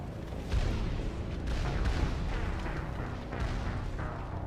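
A Geth heavy turret outside the city limits firing in Mass Effect: heavy, rumbling booms in repeated waves, loud and close, several blasts rolling over one another without pause.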